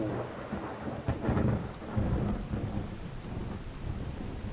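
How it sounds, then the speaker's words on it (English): Steady rainfall in the video game The Elder Scrolls V: Skyrim, with deep rolls of thunder rumbling through it, swelling twice before settling back into the hiss of rain. No voices. "Sounds like rain."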